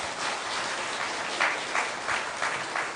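A church congregation applauds during a 2010 ordination thanksgiving service, a steady dense patter of many hands with a few sharper bursts near the end, no talking over it.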